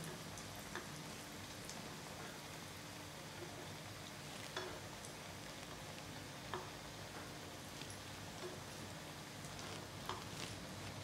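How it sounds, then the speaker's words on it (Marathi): Veg cutlet frying in hot oil over a medium gas flame gives a steady, close crackle and sizzle, with occasional soft pops and ticks scattered through it and no voices. "मिडियम गॅसवर आपण तळून घेऊया"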